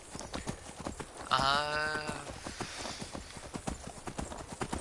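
Skyrim horse hoofbeats clip-clop steadily throughout, with a horse whinnying briefly near the start.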